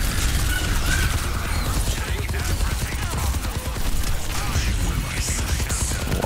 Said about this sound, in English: I'm hearing Sombra shooting.